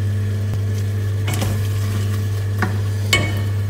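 Herbs and lemongrass frying over high heat in a pot for Thai Tom Yum soup, with a steady sizzle under a constant stove hum and a few sharp scrapes of a stirring utensil.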